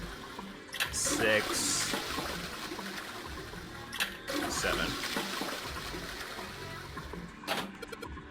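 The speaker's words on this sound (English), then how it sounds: "I heard a loud flushing noise." A toilet flushes in the video game Zero Escape: 9 Hours, 9 Persons, 9 Doors, a rushing water surge that swells and fades over a few seconds while a voice counts aloud.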